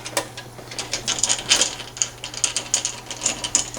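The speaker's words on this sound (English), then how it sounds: "We need to take all 5 of those screws out." A screwdriver backing screws out of the laser box of an HP CM1015 printer, giving close, rapid ratcheting clicks in quick irregular bursts against a faint steady hum.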